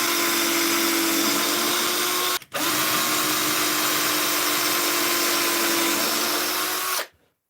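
Power drill with a spade bit boring holes for a candle holder, a loud steady whirring hum that runs almost continuously, cut once by a brief pause, then stops abruptly near the end.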